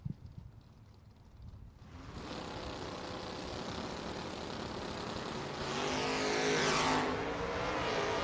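Drag racing launch at the FRBR Coastal Clash, a Chevy II against a wheel-standing Vega wagon: quiet at first, then loud engine roars erupt and build into a sustained, rising howl as the cars accelerate away.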